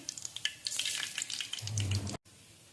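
Mustard and fennel seeds crackle and sizzle in hot oil, a steady spattering hiss with scattered pops, close up and moderately quiet.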